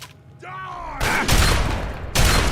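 Loud shotgun blasts from a video game, three heavy broadband bursts in quick succession following a brief rising tone, with a voice speaking beneath.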